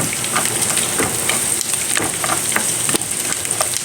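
Pork belly fries with garlic in a pan, a loud, steady crackling sizzle close by with occasional stirring scrapes, no voices.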